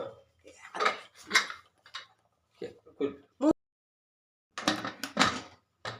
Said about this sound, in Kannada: ಈಗ ನಾವು ಕುಕ್ಕರ್ ಮುಚ್ಚುಳೆಯನ್ನು ತಗೊಂಡು